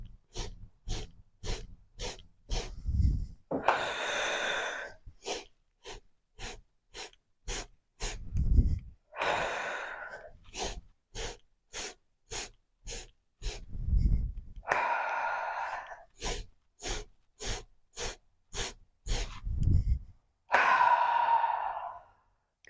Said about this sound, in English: take a nice inhale and exhale here